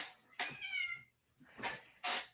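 A house cat meows three times, close and fairly quiet, the first call drawn out and wavering, the other two shorter, separated by brief silences.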